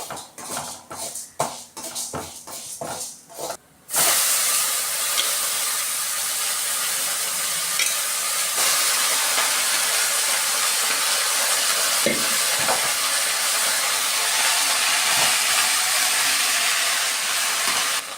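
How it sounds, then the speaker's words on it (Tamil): Urad dal roasting to golden brown in a hot pan while being stirred, a steady close hiss of dry frying with scraping stirs, preceded by a few sharp clatters at the start; no talk. "அது நல்ல ஒரு பொன்னிறமாக வறுத்தாச்சு."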